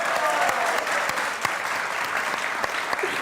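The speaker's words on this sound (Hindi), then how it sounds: "इनके लिए वाकई तालियां" Steady studio audience applause on a comedy talk show, dense clapping throughout with a few louder individual claps standing out.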